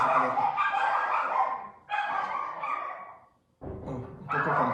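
Small female dogs barking and yipping in a continuous, busy run, with a brief pause before the yapping resumes, fairly close and clear over a faint room background.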